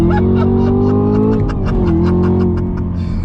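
A Chevrolet Camaro ZL1 muscle car pulls hard in first gear, its engine note loud and close and rising steadily, with a brief dip as the revs build again.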